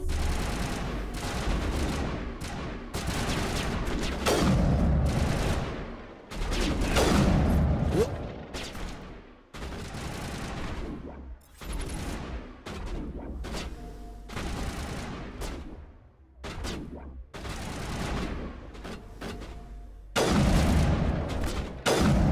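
Pistol gunfire from the Mass Effect video game crackles in dense, repeated volleys across the whole stretch, with brief lulls between loud bursts and mechanical clatter mixed in.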